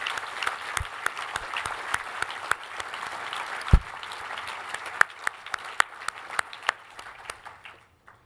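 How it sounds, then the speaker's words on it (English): Gala audience applauding a family being honored, a dense, steady wash of clapping at moderate level with sharp individual claps standing out, tapering off near the end. "Please join me in a round of applause for the Finken family."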